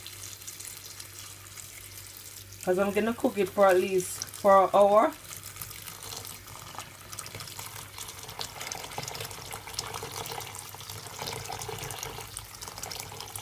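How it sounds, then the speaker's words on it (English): Hot water pours into a pot of Jamaican stew peas with pigtail, a steady running splash heard under a brief stretch of talk and continuing softly on its own afterward. "I'm gonna add some water to it."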